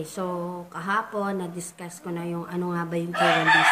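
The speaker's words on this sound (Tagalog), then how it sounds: "Pasensya na sa ingay ng manok." Chickens crowing and clucking loudly nearby at an outdoor spot in the Philippines, repeated harmonic calls running under and between a person talking.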